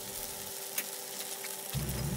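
Mushrooms, onion and cream sizzle in butter in a pan, a steady close frying hiss with a brief soft tap, filling the short moment without speech.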